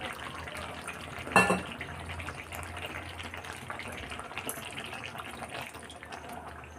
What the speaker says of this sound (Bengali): এখানে আমি মাংসতে আর একটু জল অ্যাড করব